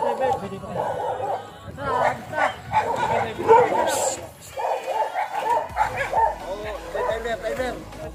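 Dog barks and yips mixed in with overlapping Filipino speech at a pigeon flying contest, the barking intermittent through steady talking.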